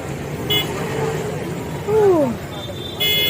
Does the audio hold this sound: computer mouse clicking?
no